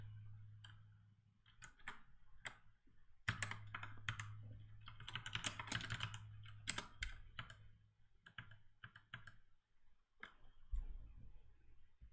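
Typing on a computer keyboard while coding, with irregular clusters of close, crisp key clicks, some faster runs and scattered single taps over a low steady hum.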